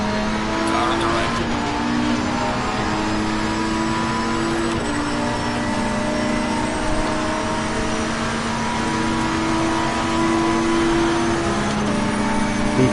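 Race car engines at Monza in Assetto Corsa Competizione, a continuous high, droning whine that shifts pitch through gear changes, loud and close throughout with other cars nearby and brief radio-style voice calls underneath.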